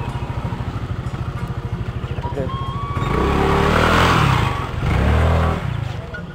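A motorcycle engine revs up loudly over a steady idle rumble, swelling twice before settling back down.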